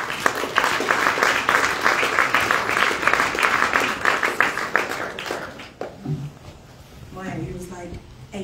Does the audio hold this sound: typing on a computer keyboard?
no